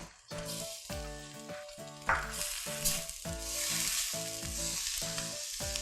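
Pork sizzling in Thai curry paste and coconut milk for a bitter melon curry, a steady frying hiss with rhythmic stirring scrapes repeating about once a second, close and unbroken, with no talking.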